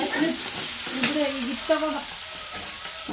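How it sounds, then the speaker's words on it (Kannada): Steady sizzling of tomato frying in a pan for country chicken curry, with a few stirring scrapes and clinks over the hiss; no talking. "ಅದನ್ನು ಸ್ವಲ್ಪ ಫ್ರೈ ಮಾಡ್ಕೊಂಡ್ರು"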